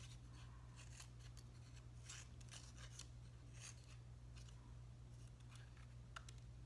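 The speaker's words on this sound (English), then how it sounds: "And one more little snip, and there we go." Scissors snip paper to cut the base of a handmade paper rose, giving a series of quick, close cuts spread unevenly over a steady low hum, with no talking.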